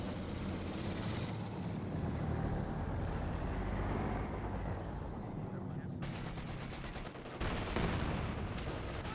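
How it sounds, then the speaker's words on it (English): Tiger tank machine guns and main cannon firing in the Company of Heroes 2 strategy game, a dense continuous barrage of gunfire and rumbling battle noise with a sharper burst near the end. "Now he's just raking back the American units with the machine guns and the main cannon on this Tiger"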